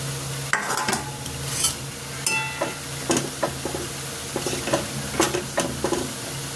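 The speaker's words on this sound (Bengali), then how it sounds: "এবার ভেজে রাখা বড়াগুলো দিয়ে দেবো।" Fried lentil fritters tipped into a simmering curry in a pan and stirred, giving repeated scraping, clattering stirs over a steady low sizzle, close and fairly loud with no talking.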